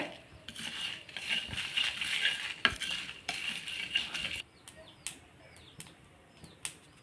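Whole spices, broken cinnamon bark and chillies sizzle in hot oil for a coconut milk rasam, a bright crackling fry with light metallic clinks of stirring and scattered taps against the pan.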